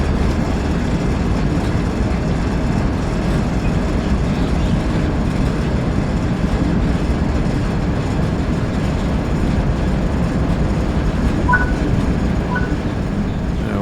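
A freight train rumbles steadily through Cajon Pass in Train Sim World 3, a loud, continuous low engine drone and rolling noise with a couple of faint high clicks near the end, no talking.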